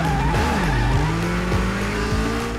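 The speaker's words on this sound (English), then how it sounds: "when I hit the e-brake, I can just power slide until like I straighten up the car" A car power-slides on the e-brake in the Super Street: Racer video game: a loud, continuous engine whine with shifting pitch under sustained tire squeal, close and alone, without any talk.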